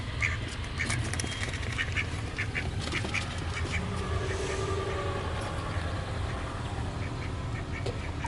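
A duck quacks repeatedly in short nasal bursts, fairly close, over a steady outdoor rumble of distant traffic and low background hum.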